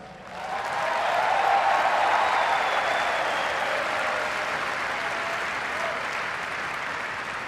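A large crowd applauds steadily after a line in Barack Obama's 2008 victory speech, the dense clapping swelling quickly and holding loud and even throughout, with no talk over it.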